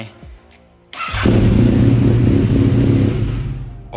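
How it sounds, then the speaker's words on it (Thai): A motorcycle fitted with a quickshifter starts up: quiet ticking, then a sudden catch as the engine fires into a loud, steady idle close by that runs to the end. "เราจะเรามาลองสตาร์ทรถดูนะครับ ว่าสตาร์ทรถติดไหม"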